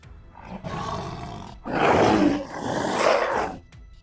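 A tiger lets out deep, loud roars close by, two long swelling growls with a short break between them, and no other sounds around them.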